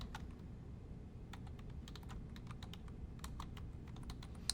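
Steady keystrokes on a computer keyboard as a short note is typed, with irregular bursts of clicks over a low room hum and no voices.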